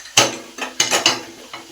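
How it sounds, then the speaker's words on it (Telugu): A lid set on a pot of mutton curry, heard as several sharp metallic clinks and clatters close by, with no talk. "ఇప్పుడైతే మూత పెడదాం ఫ్రెండ్స్ మగ్గినాక"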